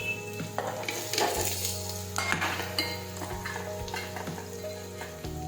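Chopped turiya (ridge gourd) dropped into hot oil tempered with mustard seeds, cumin and hing, sizzling loudly and steadily up close with a few stirring scrapes and utensil clinks, no talk.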